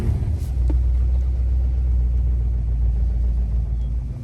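A 1989 Dodge Ramcharger's engine idles steadily while warming up, a close, continuous low rumble that holds an even level from start to finish with no revving.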